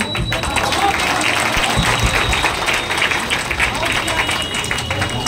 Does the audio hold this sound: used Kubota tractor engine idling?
no